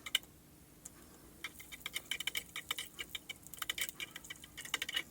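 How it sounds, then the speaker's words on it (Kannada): Cashews and raisins crackle in hot ghee for a festive pongal, giving a run of sharp, irregular pops and ticks that grow busier and denser over the second half, close and fairly quiet. "ಅದೊಂದು ಸ್ವಲ್ಪ ಫ್ರೈ ಆದಮೇಲೆ ಈಗ ದ್ರಾಕ್ಷಿ ಹಾಕ್ಕೊತೀನಿ"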